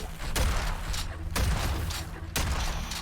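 Shotgun blasts in a multiplayer shooter game, three heavy booming shots about a second apart, each with a broad roaring tail over constant gameplay noise.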